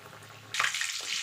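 Chicken cutlets hit hot oil with a sudden burst of loud, bright sizzling after a quiet half-second, and the crackle continues steadily to the end.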